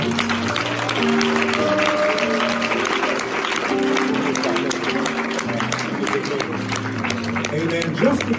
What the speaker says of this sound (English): Could you just give one another a round of applause?